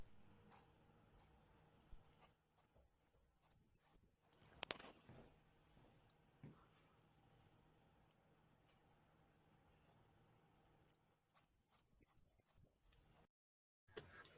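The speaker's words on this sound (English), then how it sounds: "This is the sound of a hoglet peeping." Two bursts of rapid, high-pitched peeping from a baby hedgehog, each a quick series of thin chirps, separated by several seconds of near silence.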